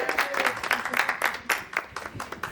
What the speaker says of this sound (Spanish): Quiero pedir un fuerte aplauso para la pareja de Rula que está aquí presente.